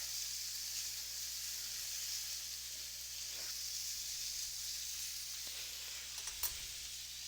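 Onions sizzle in a pan while a Cuban-style sandwich is cooked, a soft, steady frying hiss held at a low level throughout, with one small clatter near the end and no voices.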